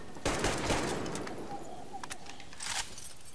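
Gunfire from a weapon in the video game Metro Exodus: a loud burst of rapid shots up front, then a few quieter scattered reports and clicks trailing off, with no talk.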